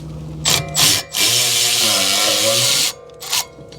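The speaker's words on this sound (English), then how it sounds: "just thread that in. And what that will do is act as like a force screw and press this rotor off of the hub" An M8 bolt used as a force screw on a Mazda CX-9 rear hub gives off a loud, sustained grinding and ratcheting whir as it presses the brake rotor free, with short bursts before and after the long run.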